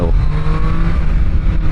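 A Triumph Street Triple 765 RS motorcycle engine in sport mode revs loud and close, a sustained rising engine drone that sits over heavy low rumble for a brief moment.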